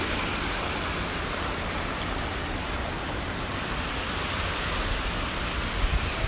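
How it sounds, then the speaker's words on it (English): Loud rushing water along the San Antonio River Walk, a steady broadband roar of flowing and falling water that stays constant and close throughout. "I apologize if there's any kind of loud noise. There's just a ton of water right here."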